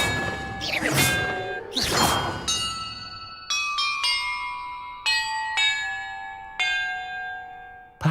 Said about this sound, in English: Perhaps the map contains clues about the order I'm supposed to ring the bells in.